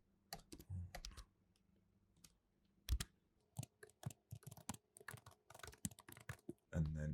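Scattered keystrokes and clicks on a computer keyboard as passport details are entered, in irregular quick bursts with pauses, close and fairly quiet.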